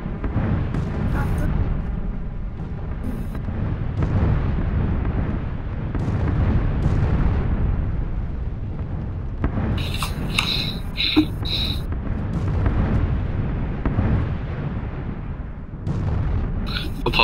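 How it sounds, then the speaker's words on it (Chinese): PUBG gameplay gives a run of distant gunshots and booming explosions, with sharper bursts of fire clustered toward the end, all under a rumbling game soundscape. "我有枪声，有枪声，我好可怕，有枪声！"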